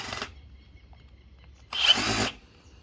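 A handheld power tool tightens a bolt while a Sur-Ron electric pedal kit is installed. A short whirring burst is followed by a pause, then a second, slightly longer buzzing burst close by in a quiet setting.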